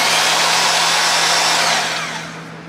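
A bandsaw cuts a knife blank clamped in a vise, a loud, steady, close mechanical whir under a low hum that tails off toward the end, with no voices.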